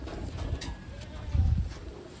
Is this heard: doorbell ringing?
no